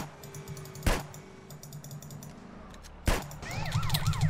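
A wailing police siren rises and falls in GTA San Andreas near the end, under steady game background noise, with two sharp loud clicks and keyboard tapping earlier.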